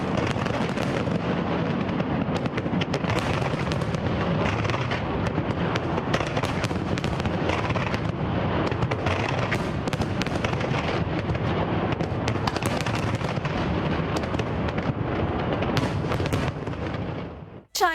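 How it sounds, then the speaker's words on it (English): Massive New Year 2020 pyrotechnics show with dense, continuous rapid bursts and crackles of fireworks, loud and sustained for the whole stretch, a thick wall of booms and pops before a sudden cut near the end. "welcomed 2020 with a massive pyrotechnics show."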